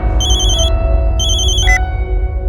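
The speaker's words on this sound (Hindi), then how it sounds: "आपके फातिमा वाले नंबर पर पाल का फोन आ रहा है" A mobile phone rings in two bursts of a bright electronic ringtone in a low-ceilinged indoor comedy-drama scene, over a steady low background hum, with no talking.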